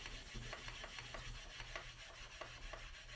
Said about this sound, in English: doing some more finish sanding on the edges